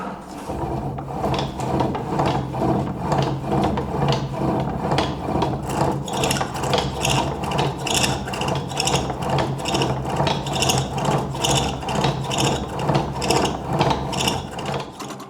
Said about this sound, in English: He carves the rounded decorations with a chisel.